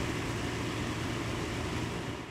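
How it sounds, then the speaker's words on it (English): A dehumidifier runs inside a flood-damaged building in Topeka, giving a steady, even whooshing drone of fan and motor noise. The sound holds at a constant level throughout, with no voices. "That is the sound of a dehumidifier"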